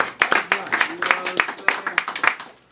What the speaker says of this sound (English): Clap it up for simple